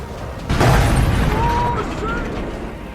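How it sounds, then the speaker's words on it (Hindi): A Tejas fighter jet crashes with a sudden deep boom that rolls on as a long, rumbling roar, with a faint rising whine drifting through the aftermath. "इसमें तेजस नीचे गिरते और गिरने के बाद का धमाका एकदम साफ दिखाई दे रहा है"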